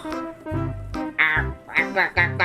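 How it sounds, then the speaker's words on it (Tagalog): Several nasal, quacking duck calls in quick succession in the video game Minecraft, mixed with game music and a voice talking over them. "Bakit may pato dito?"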